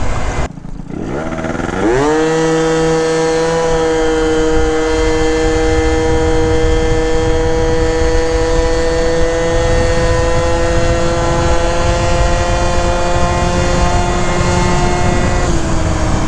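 A 70cc Zuma scooter fitted with a Stage 6 CVT revs up and holds a steady, loud droning engine note while riding, the pitch rising then leveling as the transmission shifts.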